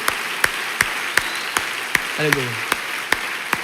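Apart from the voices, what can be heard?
church congregation applauding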